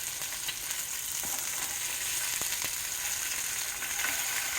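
Great Value Vermont maple link sausages sizzle steadily in a hot pan, a constant bright frying hiss broken by a few soft clicks of a spatula.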